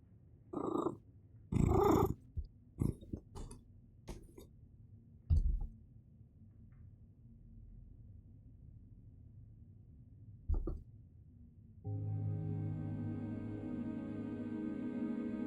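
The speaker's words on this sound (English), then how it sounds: "Can you guys hear the purring?" Low, steady purring rumble from a cat close by, broken by a few soft clicks and bumps, then a louder, fuller purr toward the end.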